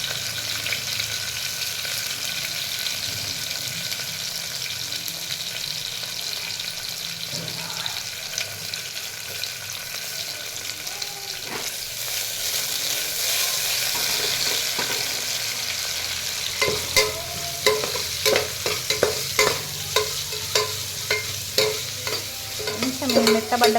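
Sliced onions fry for khichdi in a pan, a steady close sizzle with stirring scrapes. Near the end, a run of sharper clinks and clatters breaks in.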